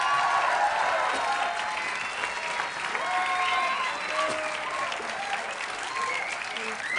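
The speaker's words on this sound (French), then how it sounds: "On peut l'applaudir, je crois" Audience applause for the performer Carlos Schmetterling, a steady wash of many hands clapping throughout, with a few voices and faint cheers mixed in near the stage.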